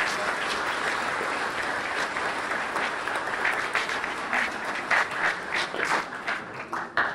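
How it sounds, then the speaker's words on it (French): An audience at a Walloon cabaret evening breaks into sustained, even applause that grows slightly more uneven and scattered toward the end. "Un applaudissement, s'il vous plaît."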